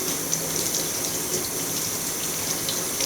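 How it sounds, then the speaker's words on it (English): Potatoes scrubbed with a scrubby under a running tap, a continuous broad rush of water with faint rubbing mixed in. "So I have a nice little scrubby here, and I'm going to scrub all of those."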